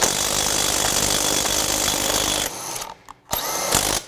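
A Craftsman V20 brushless 1/2-inch drive impact wrench loosens a lug nut: loud, continuous rapid hammering for about two and a half seconds, then it cuts out, gives a brief stuttered burst and restarts near the end.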